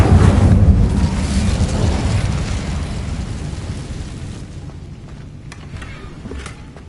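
Incendio fire spell cast in the Hogwarts Legacy video game: a loud whooshing, roaring burst at the start that slowly dies away into a fainter crackle and a few small pops.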